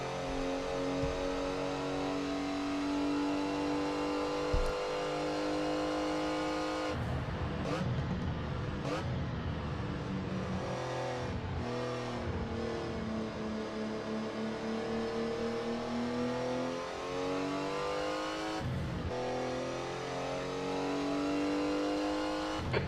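A Porsche 956 Group C race car runs at Sebring, its engine screaming at high revs with a steady tonal drone, dropping sharply on downshifts and climbing again, heard from onboard and loud throughout.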